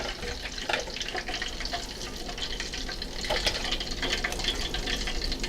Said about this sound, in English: because we're cooking chicken drumettes, they're not gonna take long to finish